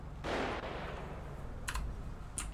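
Gunfire in a roleplay video game, two short sharp bursts of distant shots standing out over a steady low background rumble and a broad wash of noise.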